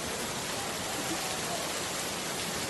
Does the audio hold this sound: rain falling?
yes